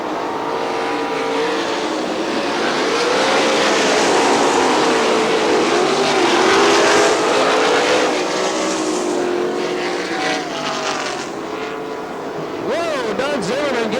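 410 sprint cars racing at Crystal Motor Speedway in Crystal, Michigan, a loud pack of engines roaring and shifting pitch as they pass, with rising and falling whines near the end and a commentator talking over them.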